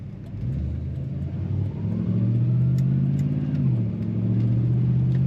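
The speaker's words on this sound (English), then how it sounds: "Nice firm shift from that automatic transmission and good acceleration" A 1985 Chevrolet Monte Carlo SS with an automatic transmission accelerates from inside the cabin, its engine note climbing steadily, dropping at a firm gear shift, then pulling again with a steady mid-range drone.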